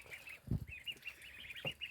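Ducks quacking and honking in a busy cluster, with repeated calls close by and a brief low thump partway through.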